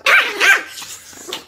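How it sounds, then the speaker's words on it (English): A pet dog at home gives two sharp, close barks in quick succession, followed by a softer whine and a final short yip, loud and alone without any talking. "I come home and I pet my dog."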